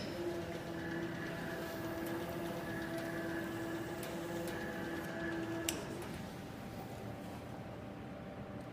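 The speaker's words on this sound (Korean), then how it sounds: "컨베이어를 작동하겠습니다." Conveyor of an inkjet marking machine running, a steady mechanical hum and rattle with faint ticking, continuous and moderately quiet from start to finish.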